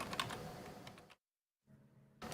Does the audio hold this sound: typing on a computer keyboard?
yes